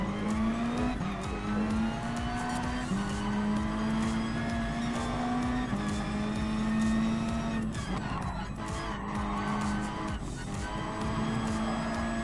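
A Toyota rally car driving in the video game Gran Turismo Sport, its engine droning steadily with a pitch that climbs, drops with each gear shift and climbs again, over a constant rough road and tire noise.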